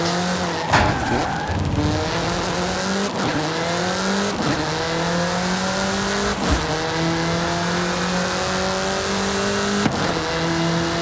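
A car in Forza Horizon 5 drives at speed, its loud engine note climbing steadily and dropping sharply at several gear shifts, with no talk over it.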